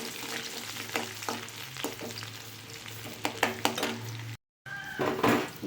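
Big onions fry in oil with urad dal for ragi semiya upma, a close, steady sizzle broken by scraping stirs and clinks of a spoon against the pan, with a brief dropout before the stirring resumes.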